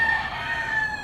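A rooster crows one short, loud, tonal call that fills the whole moment, with no talking.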